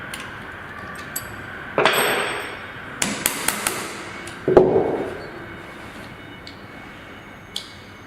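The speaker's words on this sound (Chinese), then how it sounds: "可以用榔头轻轻的敲一下，但是不要敲得太重了" A hammer gives a deep-well submersible pump impeller a few light, separate taps. The metallic clinks come at irregular intervals over a quiet background.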